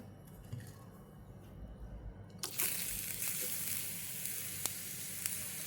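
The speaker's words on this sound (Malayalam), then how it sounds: "വെളിച്ചെണ്ണ ചൂടായി വരുന്ന സമയത്ത് നമുക്കിതിലേക്ക് അരിഞ്ഞു വെച്ചിരിക്കുന്ന ചെറിയ ഉള്ളി ചേർത്ത് കൊടുക്കാം" Chopped shallots drop into hot coconut oil and burst into a loud, close sizzle about halfway through, after a quieter stretch of low handling noise, then fry on steadily.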